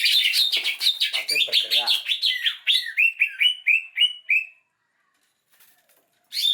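A caged songbird chirps while a leg ring is fitted, a fast run of bright, close tweets and short calls, then a brief pause before chirping resumes; someone speaks briefly.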